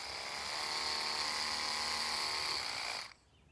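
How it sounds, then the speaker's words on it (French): A close electric toothbrush buzzes steadily for about three seconds, a loud even whine held against tomato flowers to shake loose pollen, then switches off abruptly. "je vais prendre une brosse à dents"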